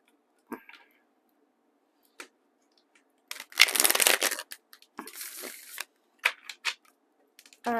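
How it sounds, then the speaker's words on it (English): A tarot card deck being shuffled by hand, with scattered soft taps and riffles followed by a denser burst of rapid card flutter, then more sporadic clicks and slides, close and fairly quiet. "So one more shuffle"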